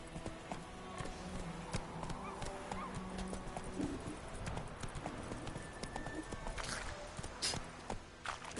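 Hooves of the horse Roach clip-clop steadily in a PS4 video game, with a brief whinny, over a busy background of game ambience.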